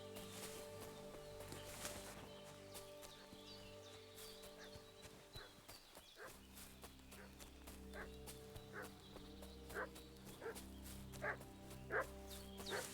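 A dog barking in the video game Kingdom Come Deliverance 2, repeated sharp barks in an uneven rhythm over a sustained musical drone, the barks growing louder and closer toward the end.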